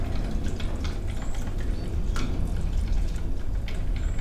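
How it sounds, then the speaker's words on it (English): Homemade ranch dressing thickened with extra mayonnaise is whisked by hand in a bowl, giving steady, close wet clicking and squishing strokes with no talk. "You just want to give it a good whisk."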